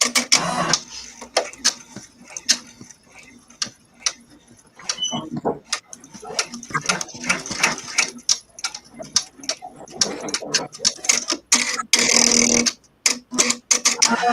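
An embroidery machine running quick in-the-hoop stitches, a dense stream of fast clicking and tapping with irregular bursts and brief pauses, close up and fairly loud throughout.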